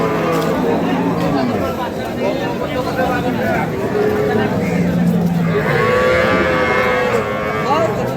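Cattle at a village market selling Sahiwal, Sindhi and local dairy cows with calves, several loud drawn-out moos rising over a constant crowd murmur and nearby chatter.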